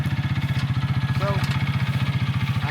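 The roughly 400cc fuel-injected engine of a 2025 Bighorn 450 Pro Max UTV side-by-side idles nearby with a steady, even low throbbing throughout, with no break and no clear speech.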